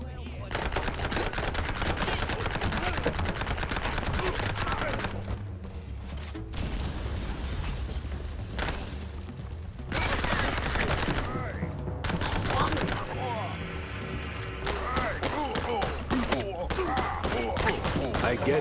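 Rapid enemy gunfire bursts from the cartoon-style video game Tinsel Ave. Mouse, loud and dense across most of the stretch with short pauses, mixed with game music and effects and a voice talking over it.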